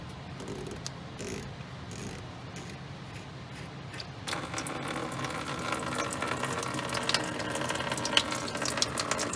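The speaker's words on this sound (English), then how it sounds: "we're gonna drain this, get some antifreeze out of here." Coolant draining from a Ford 6.0 diesel, heard as a faint start of mechanical clicks that gives way to a steady, louder trickling and splashing stream of liquid.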